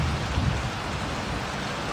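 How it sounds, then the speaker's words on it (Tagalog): Heavy rain pours steadily during flooding in Midsayap, Mindanao, a dense, continuous hiss of downpour close by with no voices, loud and unbroken throughout. "Bumuhos din ang malakas na ulan sa bayan ng Midsayap."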